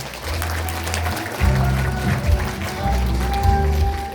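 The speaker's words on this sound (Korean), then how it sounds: "여러분 박수로 맞이해주시기 바랍니다" Applause from an audience at a politician's legislative report meeting fills the space, a steady wash of clapping with some low rumble and crowd noise underneath.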